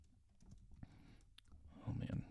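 Quick clicks of typing on a computer keyboard that is not the usual work keyboard, heard close and at moderate level during a coding session, with a voice talking over part of it.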